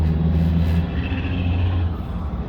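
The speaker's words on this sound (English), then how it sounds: "Freaking dump trucks, loud." Heavy dump trucks rumble past nearby, a loud, steady low-pitched engine and road roar that fades slightly over a couple of seconds.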